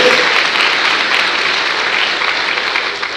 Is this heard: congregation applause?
yes